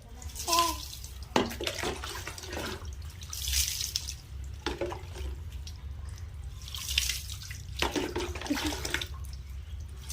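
Running water and splashes as a child bathes, coming in irregular close bursts with quieter gaps between pours.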